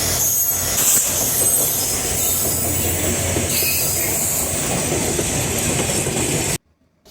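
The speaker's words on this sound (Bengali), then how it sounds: "ট্রেন চলে আসছে" A train rolls past close by, loud rumbling with squealing wheels and rhythmic rail clatter, then cuts off abruptly.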